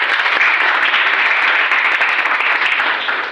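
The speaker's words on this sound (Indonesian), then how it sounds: "Oke, terima kasih, Randy. Tepuk tangan." Classroom applause from a group of students during a lesson, a dense, steady wash of clapping that holds at full strength for about three seconds before tapering slightly at the end.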